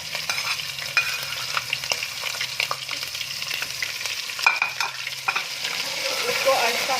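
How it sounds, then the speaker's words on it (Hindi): Garlic and ginger paste frying and being stirred into a masala for a black pepper lemon chicken karahi, a steady close sizzle with scraping spoon strokes against the pan and no voices. "इसको आहिस्ता से मिला के तकरीबन हल्का सा फ्राई होने तक भूनेंगे इसको।"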